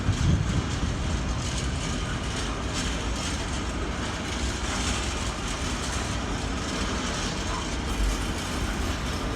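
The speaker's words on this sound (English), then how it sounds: "The train is the Tesco train from Daventry" A Tesco freight train from Daventry to Tilbury on the West Coast Main Line creeps very slowly through a station, a continuous low rumble with faint wheel clatter and mechanical rattling, steady and moderately distant.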